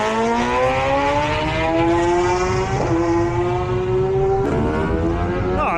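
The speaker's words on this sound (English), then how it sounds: "He is first man down the road today on number 3 Honda" Dean Harrison's number 3 Honda race motorcycle setting off at a road race, its engine screaming loud and close as it revs up through rising gears, with a quick shift partway and another near the end.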